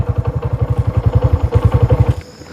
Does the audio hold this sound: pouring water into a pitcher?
no